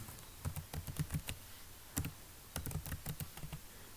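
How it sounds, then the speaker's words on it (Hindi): Computer keyboard typing, close and crisp, in short bursts of rapid keystrokes separated by brief pauses, with no talking. "इसको हम दोबारा से रिफ़्रेश करते हैं, दोबारा लिखते हैं मोहसिन"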